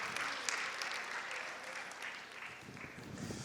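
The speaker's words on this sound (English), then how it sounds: "Give him one more round of applause" An audience at an interactive session gives a speaker another round of applause, faint and distant, thinning out toward the end.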